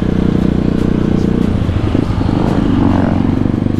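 A Kawasaki KLX supermoto motorcycle rides along with a loud, close, pulsing single-cylinder engine throb. The rumble is steady with slight rises in revs and no pause.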